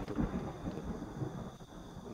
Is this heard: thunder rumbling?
yes